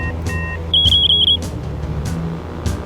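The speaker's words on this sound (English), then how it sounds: "Beatrice, it sounds like your secret two-way radio watch is beeping." A secret two-way radio watch beeping, a short series of rapid electronic chirps over a low steady hum, close and fairly loud, with a few faint taps around it.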